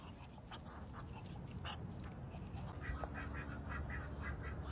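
Ducks quack repeatedly in short bursts over a steady background wash, fairly faint and irregular, with no talking.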